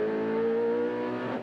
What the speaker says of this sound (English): The leading car coming in for its pit stop.